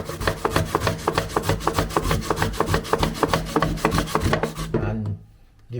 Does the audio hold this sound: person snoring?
no